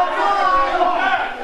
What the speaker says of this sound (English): Crowd, you can hear them, this split